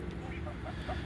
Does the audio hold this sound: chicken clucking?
yes